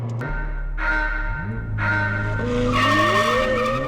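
McLaren 765LT pulls away with a loud skidding tyre squeal and rising engine note, the tone sweeping upward through gear changes as the car accelerates, close and with no talk.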